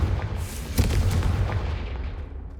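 Confringo fire spell blast from Hogwarts Legacy: a sharp booming burst near the start, then another strong crack a moment later, followed by rumbling, crackling fire noise that fades out slowly.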